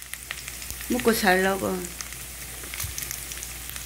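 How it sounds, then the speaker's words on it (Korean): Thawed frozen pork belly and tteokgalbi sizzling in a pan, a steady frying hiss throughout with a voice speaking briefly over it. "냉동실 깡깡 얼은 거, 삼겹살 깡깡 얼은 거 전자레인지 해동시켜서 구워서 먹으려고 합니다."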